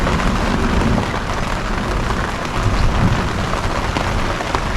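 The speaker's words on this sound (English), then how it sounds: "It's just like constant thunder because the lightning is constant." Heavy rain pours steadily on a campsite during a storm with constant lightning, a dense continuous wash with low rolling rumbles of thunder beneath it, no voices.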